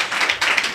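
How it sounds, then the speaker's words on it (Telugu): Short burst of audience clapping during a Telugu church service, fairly close and steady with no one speaking. "మరొకసారి చప్పట్లు కొడదాం గాక"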